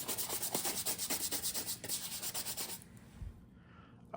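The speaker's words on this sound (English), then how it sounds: "I have finished giving each of the sprues and the big parts a scrub" Plastic model sprues and parts from a Polar Lights 1/350 scale K't'Inga kit being scrubbed in soapy water, giving a steady close rhythmic rubbing that pulses regularly, then stops and leaves a quieter splash and faint handling.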